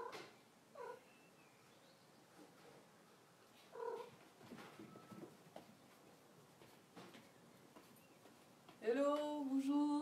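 A cat close by, quiet and intermittent, with short soft calls scattered through a hushed room and a louder, drawn-out meow or yowl near the end.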